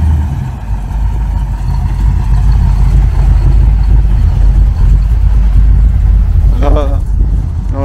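A Porsche 928 engine idles with a deep, steady rumble close by at a classic motor show, and a brief voice exclaims near the end.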